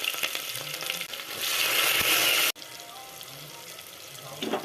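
Onion, garlic and green chili hit hot oil in a pressure cooker, sending up a bright, loud sizzling hiss that swells for a moment, then settles into a quieter crackle.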